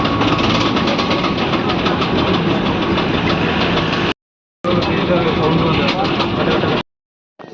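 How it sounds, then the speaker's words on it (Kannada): A bus engine runs loudly during repair work, a dense rumbling and knocking drone that continues steadily and then cuts out briefly twice. "ರಿಪೇರಿ ಗೈಸ್, ಬಸ್ ರಿಪೇರಿ ಆಗ್ತಾ ಇದೆ. ಸೌಂಡ್ ನೋಡಿ, ಸೌಂಡ್."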